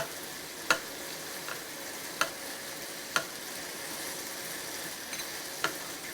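Food sizzles steadily in a hot pan with a soft, continuous crackle, punctuated by a few light clicks of a utensil stirring.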